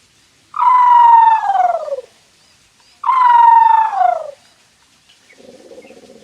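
A man imitates bird calls with his voice, giving two loud, drawn-out descending whistled cries about two seconds apart, close to the listener, followed by a softer, lower murmur.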